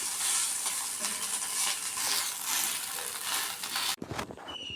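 An instant rava dosa fries on a hot pan, giving a steady close sizzle that runs for about four seconds before cutting off sharply, followed by a brief scrape and clatter.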